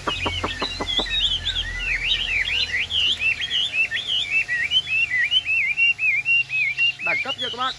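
A tame caged songbird with yellow colouring and yellow legs sings a bright, rapid run of whistling chirps, loud and close, opening with a few sharp clicks and ending in a burst of quick notes.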